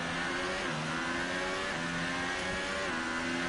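F1 race cars screaming through a lap in the F1 2018 video game, a steady loud whine of high-revving engines with rising and falling pitch shifts, constant and close with no talking.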